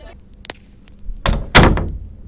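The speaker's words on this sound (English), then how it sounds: "as the door closed behind their guest" A door swings shut with a solid thunk, followed by a louder slam, after a couple of faint taps in a quiet room.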